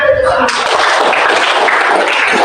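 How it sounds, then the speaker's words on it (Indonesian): A loud, steady wash of audience applause fills a session hall in Probolinggo, with voices murmuring underneath throughout. "beri tepuk tangan untuk semua"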